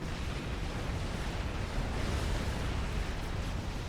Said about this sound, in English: The Billy nuke is curving out and gonna explode in a few more seconds.